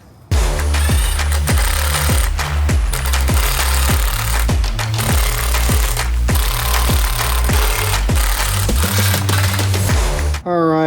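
A power impact tool hammers 15mm socket bolts snug while mounting a WARN Zeon XD winch on a Jeep Wrangler JL or Gladiator Rubicon. It gives loud, close, rapid rhythmic rattling bursts almost continuously for about ten seconds.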